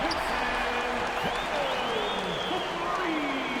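Basketball arena crowd at a Boston Celtics home game against Miami, a steady broad roar and cheering filling the space throughout, with faint squeaks and possible ball bounces beneath and an announcer's voice over it.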